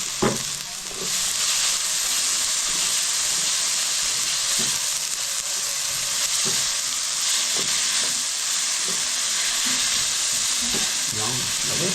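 Hotdogs sauté in a pan for spaghetti, giving a steady, loud sizzle and fry hiss with occasional soft stirring clicks throughout, and no talking.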